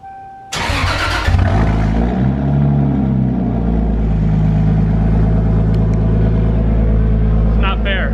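Toyota Supra engine cranks and fires into a loud, steady idle close by after a quiet start, with a voice speaking briefly over the running engine.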